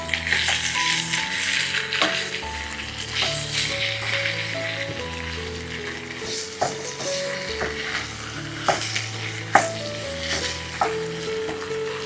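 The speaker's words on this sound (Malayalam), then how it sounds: "വേവിച്ച് വെള്ളമൊക്കെ വറ്റിച്ച് ഡ്രൈ ആക്കി എടുത്ത ബീഫിന്റെ കഷ്ണങ്ങൾ ഇതിലേക്ക് അങ്ങ് ചേർത്ത് കൊടുക്കാം. വീണ്ടും ഇളക്കി കൊടുക്കാം." Boiled, dried beef pieces stir-fried in hot oil give a steady, loud sizzle with occasional clinks and scrapes of a stirring spoon, alongside quiet background music.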